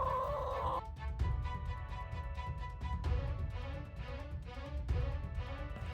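Chickens out in a farmyard cluck and call in short repeated bursts, several birds sounding close by against a low background of outdoor noise.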